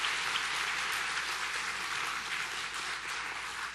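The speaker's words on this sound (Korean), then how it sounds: "큰 박수로 환영해 주시기 바랍니다." Steady applause from a church congregation, a dense, even wash of many hands clapping at the same level throughout, with no voices over it.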